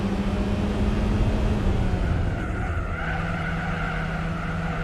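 A racing car's engine in the video game Gran Turismo 4 drones loudly while tires squeal and skid in a long, continuous screech, the pitch sliding slowly downward.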